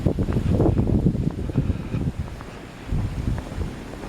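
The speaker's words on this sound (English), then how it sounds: "That wind." Strong blizzard wind buffets the microphone in gusty, roaring bursts that rise and fall over several seconds, close and loud, in a snowed-in Washington, DC street.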